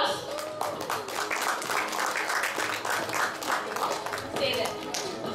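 Applause from an audience at an academic English program ceremony at the Merrida Hotel as a small child receives a trophy, a steady patter of claps that rises and falls, with voices talking over it.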